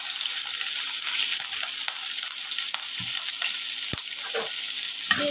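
Chopped garlic, onion and green chillies frying in oil for jute greens, a loud continuous sizzle with occasional stirring clicks and scrapes, no voices.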